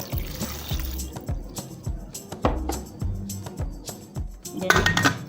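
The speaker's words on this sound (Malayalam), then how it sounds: "മുക്കാൽ ഗ്ലാസ് വെള്ളം ഒഴിച്ചു കൊടുക്കുന്നുണ്ട്" About three-quarters of a glass of water is poured into a pressure cooker holding tomatoes, with a run of light clinks and knocks against the metal pot and a soft liquid splash near the end.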